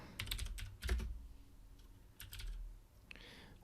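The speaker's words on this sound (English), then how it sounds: "I'm just going to type Python" Someone types a Python command on a computer keyboard, a quiet run of quick irregular key clicks with brief pauses, heard alone at close range.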